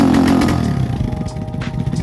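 Lifan ZS175FMN engine with an FCR carburetor in a Lifan KP Mini 300 motorcycle revs loudly up close, then bogs down into a rough, uneven sputter.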